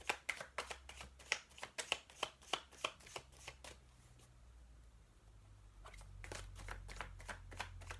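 A deck of Chuck Spezzano's love tarot cards being shuffled in quick riffling bursts, a rapid run of crisp flutters, a short pause, then another run of shuffles, close and alone.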